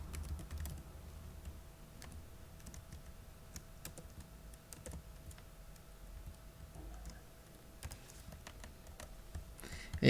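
Arduino code is typed on a computer keyboard in a quiet room, giving a steady run of faint, close key clicks with occasional sharper taps and no talk.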